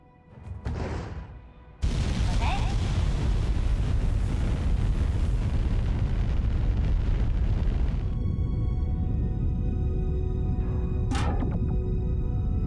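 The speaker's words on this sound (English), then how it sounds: "So we're in the VAB and we can hear the throttle sound in the background." A steady, loud roaring rumble of rocket engine throttle plays as a glitch inside the Vehicle Assembly Building of Kerbal Space Program 2, cutting in abruptly after a brief quieter burst and then droning on without pause.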